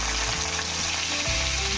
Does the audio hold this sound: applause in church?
no